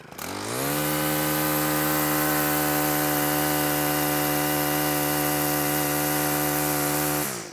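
A string trimmer fitted with a suction head attachment spins up and runs at a steady high-pitched whine for about seven seconds, loud and close, then cuts off.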